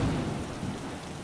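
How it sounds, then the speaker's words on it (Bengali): Heavy rain pours down outside during a thunderstorm, a short, quiet, steady wash of falling water with a low rumble beneath it and no voices. "বাইরে বেশ জোরে বৃষ্টি পড়ছে"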